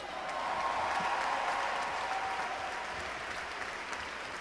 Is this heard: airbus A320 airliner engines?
no